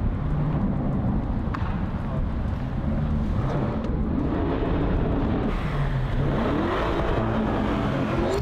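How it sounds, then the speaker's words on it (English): A Lamborghini Urus accelerates hard on a New York street, its engine tone climbing loud and close over wind and traffic noise, with a second rise in revs toward the end. "It's a Lamborghini Urus."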